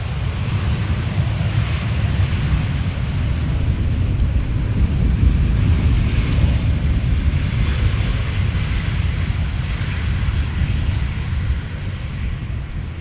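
A Suparna Boeing 747-400 lands at Amsterdam Schiphol Airport: a loud, steady, broad roar mixed with gusting wind noise that holds through the whole stretch with no voices.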